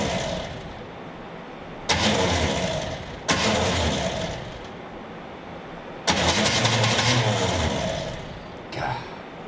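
An engine on a 1974 Chevrolet 4x4 farm truck, abandoned for 15 years, cranks over in four loud bursts of starter grinding, each a second or two long, separated by short pauses, and it never catches.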